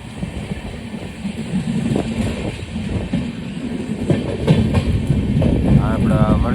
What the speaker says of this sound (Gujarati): આ વલસાડ જંકશન બાજુમાં એક ટ્રેન ક્રોસિંગ થઈ રહી છે.